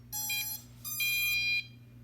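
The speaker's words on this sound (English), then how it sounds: "wait for 2 beeps." A Potensic D80 drone, a Bugs 2 clone, gives two clear electronic beeps when switched on, each a bright tonal chirp close by over a steady low hum.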